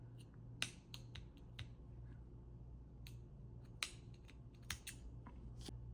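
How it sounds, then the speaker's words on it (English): Scissors snip through crochet yarn in a series of sharp, close, quiet clicks, a few cuts spaced irregularly over a near-silent background with no talking. "Now we're gonna cut our yarn."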